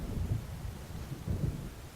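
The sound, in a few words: thunder of approaching storm in video game Alan Wake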